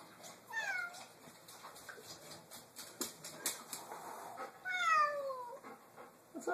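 A cat meows in a tense standoff with another cat, several drawn-out, falling meows spaced through a few seconds over faint room noise and scattered light taps.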